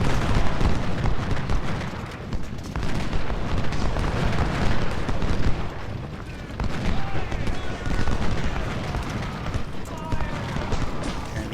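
A Civil War infantry brigade opens fire in the Ultimate General strategy game, a dense, continuous roar of rattling musket volleys and booming blasts, loud and sustained with no pauses.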